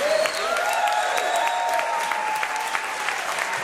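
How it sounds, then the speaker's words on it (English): Sustained audience applause at a live Gnawa music concert in a synagogue in Baltimore, dense steady clapping from a crowd filling the room, with faint tonal traces beneath. "Give a warm applause"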